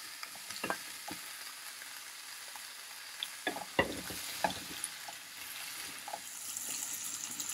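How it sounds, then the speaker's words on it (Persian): Chopped pumpkin sizzles softly in oil in a pan with scattered stirring scrapes and clicks, a quiet and close kitchen sound with no talk. "در حین تفت دادن کدو"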